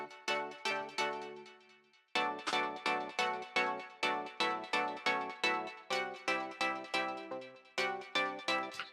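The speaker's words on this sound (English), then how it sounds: "This is called a vintage pluck." Vintage pluck synth from an EDM pop anthem in Ableton, playing a steady run of short, bright plucked chord notes in a rhythmic pattern with one brief pause, fairly quiet and alone.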